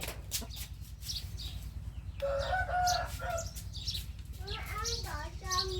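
Chickens cluck and call in a rural yard, with several short bursts close by over a steady low hum, while people talk intermittently.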